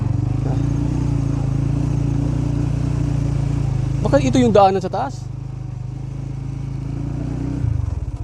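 A motorcycle rumbles steadily as it rides up a hill road near Jets View Deck in Montalban, Rizal, with a person's brief speech partway through and a short rev near the end.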